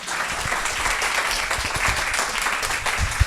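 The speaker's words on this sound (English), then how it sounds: "That's a lot of applause." An audience at a live comedy show breaks into a full, steady burst of applause, dense and loud throughout, with a few cheers mixed in.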